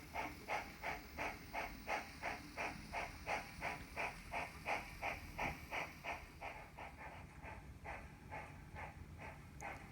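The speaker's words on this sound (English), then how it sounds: "with no passengers today, our train continues on to Equinox." PC&N Railway train running onward to Equinox, with a steady rhythmic chuffing, about two beats a second, over a constant hiss, moderately close.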